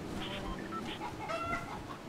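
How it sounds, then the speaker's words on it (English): Chickens clucking in a video game, a run of quick, close clucks and squawks over a busy game background, with a voice faintly present. "It's like this little chicken holding on for dear life on another chicken."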